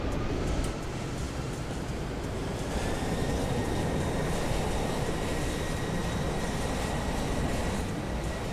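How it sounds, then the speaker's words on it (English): Airbus A310 jet engine noise in Microsoft Flight Simulator during taxi, a loud, steady broadband roar with a faint high whine running throughout, no speech. "There's no way a little fucking A310 is that loud, man."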